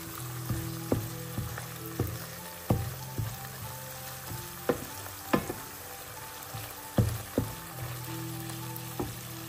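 Tomato paste and salt sizzle and crackle in a pan in a moderate steady fry, broken by sharp ticks and pops every second or so, with no voices.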